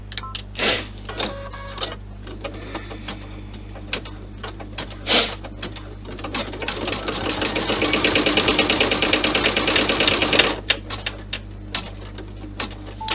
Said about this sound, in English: Lower my needle and stitch it down.